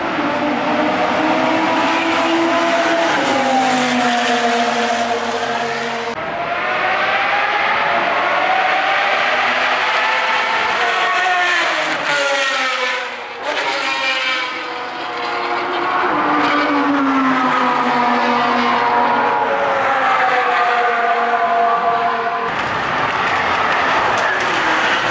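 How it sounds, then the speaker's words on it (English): High-revving hypercars, including a Koenigsegg Regera, Apollo IE and Pagani, scream past one after another at Circuit of the Americas, loud engine notes rising and falling as each passes close by on the track. "Not even gonna speak whenever these cars are passing by."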